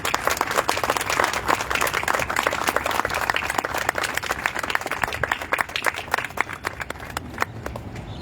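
An audience claps for speakers at a public talk on river rights in India: dense, sustained applause from a crowd, steady and fairly loud throughout.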